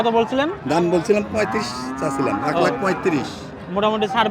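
A cow moos repeatedly at a busy cattle market during Eid trading, with long, loud, close bellows rising and falling one after another.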